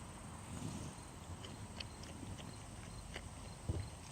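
A horse cantering in an arena riding lesson, its hoofbeats faint and dull in a rhythmic pattern over steady background noise, with a slightly louder thud near the end.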